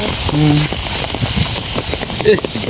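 Heavy rain pours during a windy storm, a steady, loud drumming patter with brief voices and a few sharp noises breaking through.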